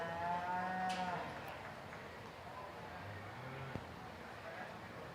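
A heifer lets out a long, loud moo at a county fair junior beef show, followed later by quieter lowing from cattle in a roomy arena. An announcer's voice is heard faintly in the background.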